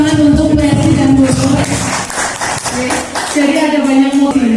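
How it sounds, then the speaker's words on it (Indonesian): Audience clapping at a school event on positive school culture, a broadband patter swelling in the middle of the clip, mixed with a steady tonal voice or music that runs before and after it. "Terima kasih, tepuk tangan untuk Mercy dan Bu"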